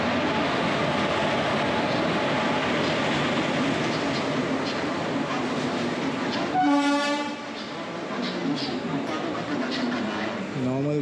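A passenger train on the Mumbai to Goa route rumbles past loudly and steadily, and its horn blasts once midway before the rolling noise carries on.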